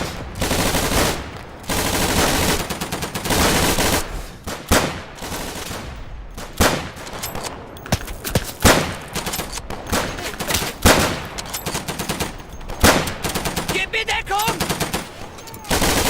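Friendly soldiers firing in Day of Infamy, the WWII shooter: loud, dense bursts of machine-gun and rifle fire crackling almost nonstop, with a few brief gaps between volleys.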